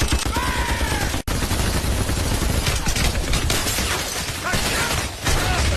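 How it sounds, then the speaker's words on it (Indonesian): Heavy M2 Browning machine gun fire in an action film battle, a dense, loud, continuous barrage of rapid shots and clattering mechanisms with no break throughout. "Yosef menyuruh pasukannya untuk membuka senjata berat yang mereka bawa, yaitu M2 Browning alias senapan mesin dengan peluru berkaliber besar sehingga Open fire!"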